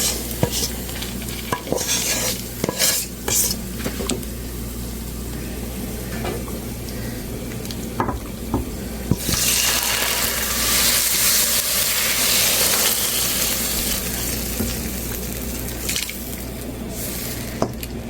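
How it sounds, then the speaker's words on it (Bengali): Whole spices tempering in hot oil for a Bengali vegetable dish give a steady sizzle, rising sharply into loud, bright frying about halfway through with scattered stirring clicks. "আমি বাগাটা দিয়ে দিলাম"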